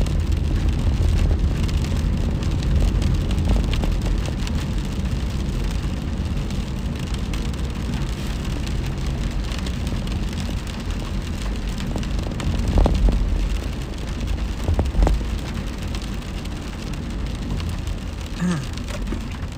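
Steady rain falling outdoors on a street, a continuous hiss with faint passing vehicle rumble underneath and a few louder swells partway through, no voices.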